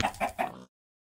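A chicken in a Minecraft mod gives three quick clucks, close and fairly faint, followed by silence.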